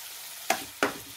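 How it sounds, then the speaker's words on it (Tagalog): Chopped tomatoes sautéing with chicken in a hot pan for ginisang monggo, a steady low sizzle broken by two sharp stirring scrapes. "Lutuin lang natin ang ating kamatis"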